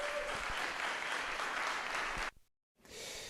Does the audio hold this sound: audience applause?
yes